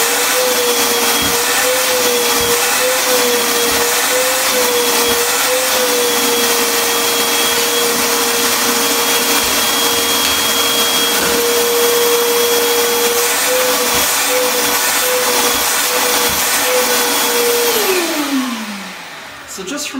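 A Ridgid shop vac runs steadily through a detailing hose, giving a loud, close, continuous roar with a high whine, then winds down at the end.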